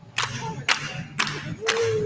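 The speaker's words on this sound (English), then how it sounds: "Come on, everybody clap your hands." A crowd at a Martin Luther King march and rally in Seattle claps in a slow, steady beat, four sharp hand claps spaced evenly, with faint voices underneath.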